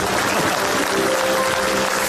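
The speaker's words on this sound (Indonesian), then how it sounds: "Tepuk tangan untuk Cak Lontong" A studio audience at a television comedy talk show bursts into sustained applause, a thick, continuous wash of many hands clapping at steady loudness throughout.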